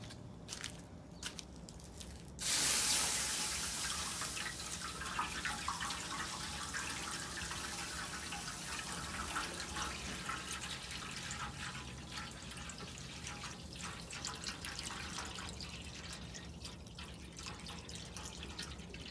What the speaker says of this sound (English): We'll get the water put into the pan.